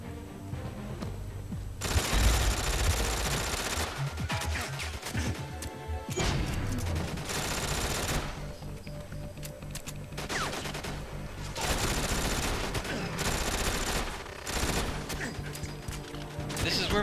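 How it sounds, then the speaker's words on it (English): Automatic machine gun fire in the GoldenEye 007 Reloaded video game: loud, dense bursts of rapid shots that return again and again with short breaks, over a steady game soundscape. "I'll get out my machine gun."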